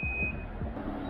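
Warning beeps from a Can-Am three-wheel motorcycle sound as a steady electronic tone over low engine rumble, brief and fairly close.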